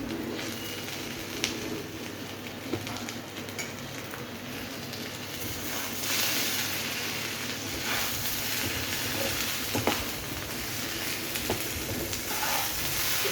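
Half a tablespoon of ghee sizzles in a pan of chicken pulao, a steady, moderately loud crackle and hiss with occasional stirring scrapes and clicks throughout, and no voices.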